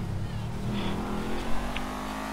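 A car in Grand Theft Auto V drives and accelerates, a steady engine drone with rising revs and a brief bump of louder noise midway, continuous throughout.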